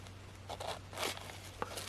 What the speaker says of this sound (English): go ahead and pull down the zipper here